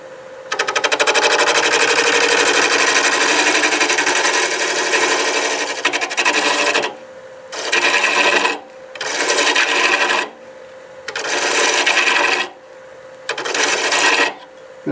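Wood lathe spinning at 725 RPM while a gouge shapes a burl tenon, producing a long continuous scraping rasp followed by four shorter bursts of cutting separated by quieter running gaps.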